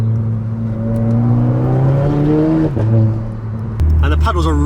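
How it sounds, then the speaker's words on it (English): Renault Clio MK4 RS engine revs up, then drops sharply on paddle downshifts with a brief blip, loud and close from inside the car. "Downshift, downshift!"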